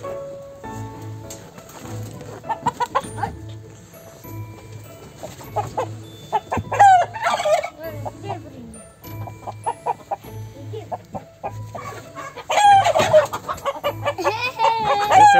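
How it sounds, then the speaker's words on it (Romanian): Pita pinta hens clucking and squawking close by with a rooster's cries rising among them, busy and uneven, growing louder toward the end. "Oh, ce găini frumoase ai."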